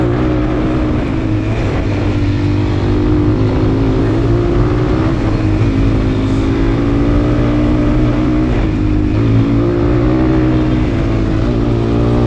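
A motorcycle engine revs hard and strains during a mountaincross motocross race while the rider struggles to shift gears, producing a loud, close, unbroken droning whine that holds steady for about twelve seconds.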